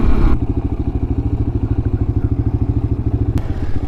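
A 32-year-old Yamaha XT 350 dual sport motorcycle runs close by, its single-cylinder engine thumping in a fast, steady, pulsing rhythm after a brief louder burst at the start.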